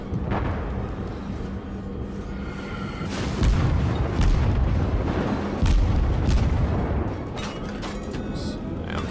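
Naval guns fire in World of Warships, heavy booming blasts that rumble and roll over a constant mechanical drone of the ship, with the loudest salvos arriving in the middle and later stretches.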